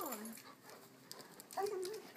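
A hound dog attempts a howl, letting out a few faint, wavering whines and yelps, with a person talking quietly over them.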